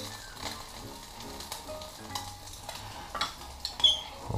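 Almond flour and powdered sugar being stirred together with a little butter in a bowl, a soft, steady scraping with a few louder clinks and knocks near the end.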